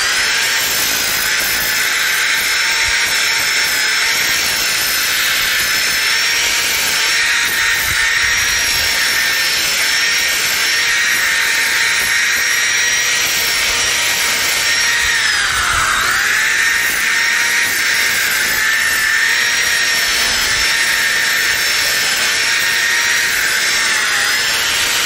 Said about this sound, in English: Don't go too light on it, especially when it comes to the sander.